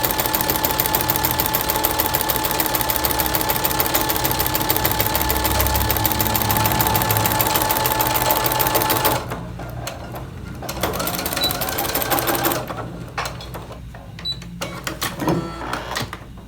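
A sewing machine stitches face mask fabric, back stitching and then forward stitching, in a fast continuous mechanical whir for several seconds. It stops abruptly, then comes short intermittent bursts and handling clicks.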